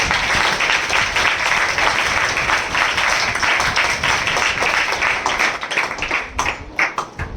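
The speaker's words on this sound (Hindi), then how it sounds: "हम जोरदार तालियों से उनका स्वागत करें" Loud, dense applause from a large crowd at a Christian gathering, sustained and steady before thinning out into scattered claps at the end.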